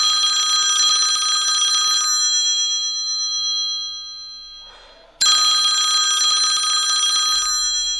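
A phone rings loud and close in an indoor home setting, sounding as two long electronic ringtone bursts split by a short pause, with a faint rustle in the gap.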